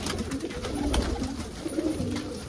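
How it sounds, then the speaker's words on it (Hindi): Border-breed golden pigeons coo in soft, repeated throaty phrases, close and steady over a low background hum with no voices. "ये बॉर्डर वाला कबूतर है, गोल्डन कबूतर है"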